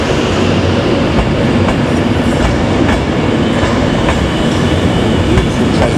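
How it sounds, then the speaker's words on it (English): A Class 390 electric train departs Glasgow Central towards Birmingham New Street, making a loud, close, continuous rolling rumble with regular rhythmic wheel clicks over the rails. "390-129 is doing the honours with the departure towards Birmingham New Street."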